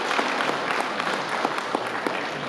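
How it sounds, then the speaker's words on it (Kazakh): Crowd applause at a Kazakh bride's farewell wedding feast, many hands clapping steadily and close, continuous for the whole short stretch without speech. "Мына шапалақ сіздердің соғылып жатыр."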